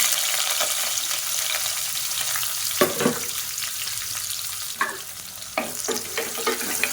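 Sliced onions sauté in hot oil with whole spices such as fennel seed for a potato and pea masala rice. A steady sizzle runs throughout, punctuated by several sharp scraping stirs of the spoon in the pan.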